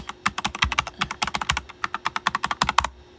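Quick, steady clatter of keys on a computer keyboard while logging into a Raspberry Pi, close and crisp, some twenty keystrokes in about three seconds with no talking.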